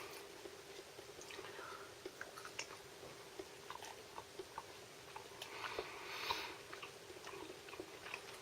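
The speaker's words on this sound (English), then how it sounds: "it does feel like you're chewing something very plasticky" Someone chews MRE beef close to the mic, soft wet bites and chewing clicks repeating unevenly, quiet and without talk.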